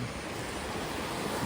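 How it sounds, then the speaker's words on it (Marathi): A fast-flowing jungle river in heavy monsoon rain gives a dense, steady roar of rushing water, loud and continuous with no breaks and no speech. "नदीला फोर्स बघा गौरा"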